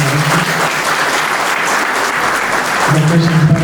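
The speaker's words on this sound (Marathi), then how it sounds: "टाळ्यांचा गजर व्हावा" Loud, sustained audience applause at a Buddha statue installation ceremony at a Buddhist vihara in Pune, dense clapping throughout, with a voice starting to speak over it near the end.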